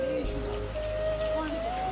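Rain falls steadily in Chandannagar during the Jagadhatri puja, a continuous close hiss with a faint tonal hum and muffled background sounds underneath.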